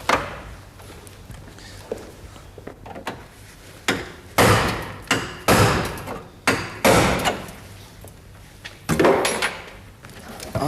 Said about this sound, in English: We may need to prise it off with a hammer and chisel.